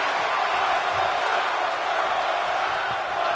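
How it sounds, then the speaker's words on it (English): A large wrestling crowd roars and cheers continuously in an arena, a dense, steady wall of distant voices with no breaks, while an announcer talks over it. "And this bloodthirsty crowd, they want it one more time."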